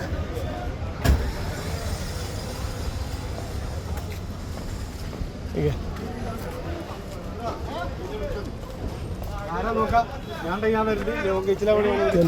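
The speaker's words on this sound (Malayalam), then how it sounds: "ഇവിടെ എല്ലാ വണ്ടിയും പോയിക്കൊണ്ടിരിക്കുക" Vehicles, including cars and buses, pass steadily near the bus stand by Palayam wholesale market in Kozhikode, with a continuous traffic rumble and bustle as people talk close by.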